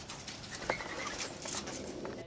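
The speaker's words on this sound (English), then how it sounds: "Those noises are the sounds of several injured birds that have been brought in for treatment" Several injured birds cooing softly among low background noise and faint chatter at a wildlife rehabilitation center in Alabama, with a brief clearer call standing out near the start.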